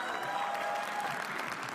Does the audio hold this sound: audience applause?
yes